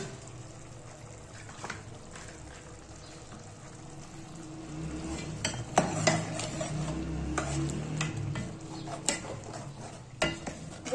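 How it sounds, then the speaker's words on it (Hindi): Tender mutter being stirred and browned in ghee in a pot, with a low sizzle under scattered scraping and clanking strokes that grow busier partway through, close by and with no talking. "घी हमने इसमें डाल दिया, अब हमने इसकी करनी है भुनाई।"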